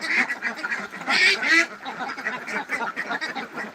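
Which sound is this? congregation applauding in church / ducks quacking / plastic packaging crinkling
ducks quacking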